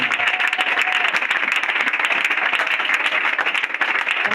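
A church congregation applauds to acclaim Jesus at a prophecy and deliverance service, giving steady, dense clapping that stays loud and unbroken throughout.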